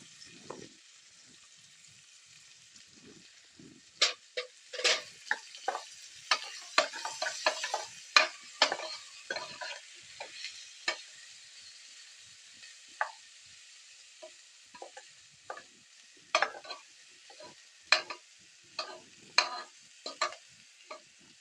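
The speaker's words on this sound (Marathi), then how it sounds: "आता आपण कांदा टाकूया बारीक कांदा कापलेला आहे" Finely chopped onion tossed into a pan of browned garlic, heard up close as a steady frying sizzle broken by repeated sharp spatula scrapes and clicks as it is stirred, with no talking.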